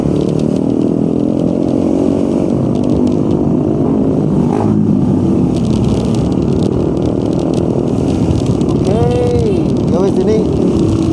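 A motorcycle carrying a rider and a passenger travels at midnight on the Puncak road. Its engine drones steadily and loudly throughout, with traffic noise, a rising whine late in the run and a voice talking over it.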